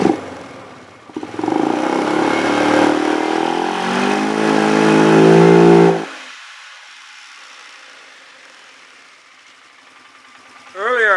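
A 2007 Polaris 500 engine, just fitted with an upgraded fuel pump, revs hard and climbs steadily for several seconds, then drops sharply back to a quiet idle before a brief final blip.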